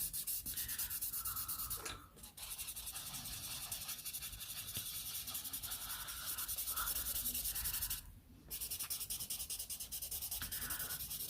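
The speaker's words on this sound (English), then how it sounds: "We're going to be putting in highlights with an eraser." An eraser rubbing over a pencil drawing to lift highlights, a continuous close scratchy scrubbing that stops briefly twice, with no talking.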